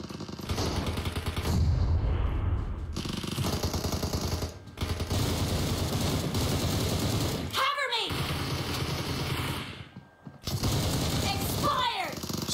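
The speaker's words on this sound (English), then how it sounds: "This is where all the shooting is." PUBG Mobile gunfire, with rapid automatic bursts and single shots crackling over a busy battle soundscape, with brief pauses and a couple of whooshing passes as a player talks over it.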